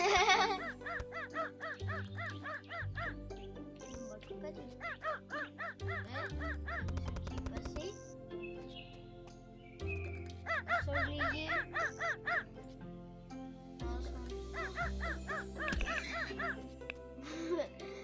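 Dog in the farming game Ranch Simulator barks in repeated rapid bursts, several volleys separated by pauses, with game sounds and someone talking in French between them.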